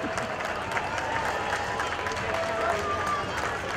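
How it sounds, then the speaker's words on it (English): A Fourth of July parade crowd in Zelienople claps and cheers steadily from the roadside, dense applause spread wide at moderate distance with a few whistles rising through the din. "And the crowd goes wild."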